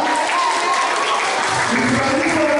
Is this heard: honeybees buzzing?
no